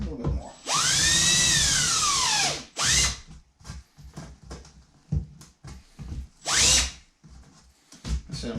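Power drill driving screws into a kitchen backsplash, two long rising-and-falling motor whirs with shorter bursts between, loud and close, with clicks and handling noise in the gaps.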